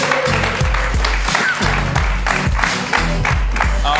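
An audience claps and cheers for a comedy cast walking onstage at a live improv and stand-up show, a loud, steady burst of applause that fills the room for several seconds.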